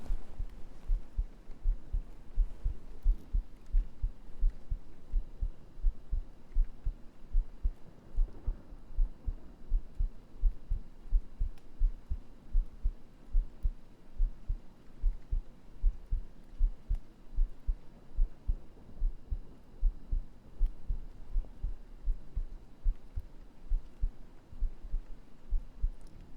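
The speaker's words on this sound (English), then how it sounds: "Now it's more heartbeat." A steady heartbeat played close on a binaural 3Dio microphone during an ASMR stream, low soft thumps repeating in an even rhythm for the whole stretch over a faint hum, no talking.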